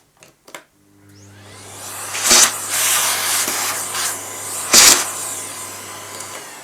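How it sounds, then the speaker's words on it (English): A vacuum sucking muck out of a vintage Hoover Constellation, starting after a couple of clicks and rising to a steady whooshing roar, with two louder rushes as the nozzle rubs and catches debris, close by. "And I just need to vac out some bit of muck."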